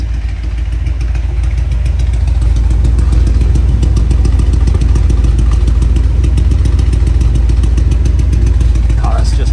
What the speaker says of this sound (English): Let's give it a listen to those tailpipes.